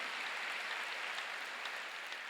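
A church congregation at a Korean worship service claps together in a soft, even wash of applause that stays faint and steady throughout.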